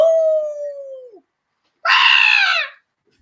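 A person imitates a dog howling: a long, steady, falling howl, then a pause and a second, harsher, raspier howl, both loud and close with silence between them.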